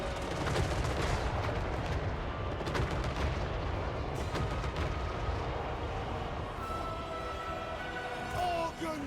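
Organ guns fire in a Warhammer-style fantasy battle game during a dwarf siege, a dense, continuous roar of overlapping gunfire blasts and booms with sharp repeated cracks over the whole stretch.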